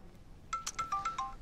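A mobile phone ringtone chimes out as a quick run of bright, clean electronic tones, five or six notes in a lively pattern, loud and close with no voices over it.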